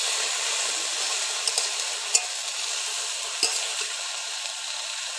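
Vegetables seasoned with salt sizzle steadily in a pan as they are sautéed and stirred, a continuous close hiss broken by a few sharp scraping clicks.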